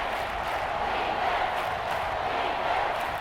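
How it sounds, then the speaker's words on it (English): A stadium crowd in a Madden NFL video game, Buffalo Bills versus Houston Texans, roars loud and steady, a dense wash of cheering voices swelling slightly with no commentary over it. "This crowd turning up the decibel level."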